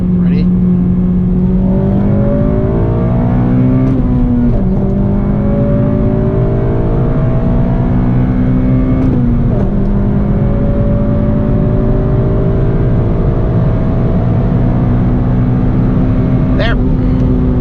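A Honda Civic Si tuned with Hondata FlashPro accelerates hard, its loud engine note climbing through the revs with brief dips at each gear shift, heard close from inside the car.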